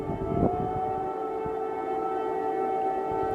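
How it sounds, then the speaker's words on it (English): Steady wailing air raid sirens across Kyiv during a Russian missile attack, with sustained tonal pitches, ringing continuously at moderate loudness with a faint distant echo. "sirens were heard across Kyiv this morning"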